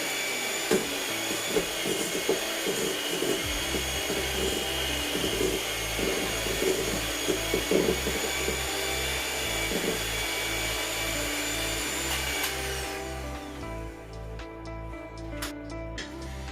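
An electric mixer creams room-temperature butter with sugar for cupcake batter, giving a loud, steady motor whir that runs almost unbroken and shifts in tone near the end, with no talk.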